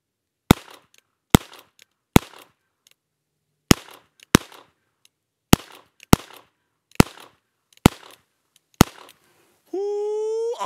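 Ten sharp, loud .22 revolver shots from a Colt King Cobra Target firing Aguila Super Extra 22 Long Rifle rounds, spaced in an uneven steady rhythm, followed by a sustained tonal electronic beep at the end.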